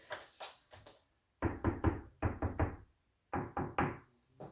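Groups of sharp knuckle knocks tap on hard wooden wall trim, close up, in three quick bursts separated by brief pauses.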